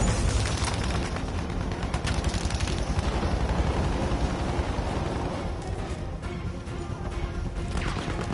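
Battlefield 5 battle noise: a dense, continuous roar of explosions, crashing debris and overlapping gunfire, loud and saturated across the whole stretch with no pause.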